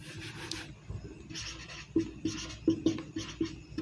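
Pen scratching on paper while notes are written for a class 12 organic chemistry lesson. The strokes are soft and close, quiet and rhythmic, with short repeated marks toward the end and no voices.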